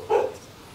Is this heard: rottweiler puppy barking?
yes